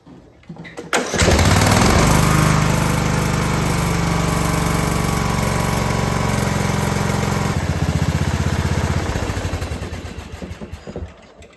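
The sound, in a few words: Craftsman DYT4000 riding mower engine starting and idling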